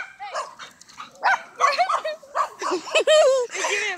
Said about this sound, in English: there's literally tons of dogs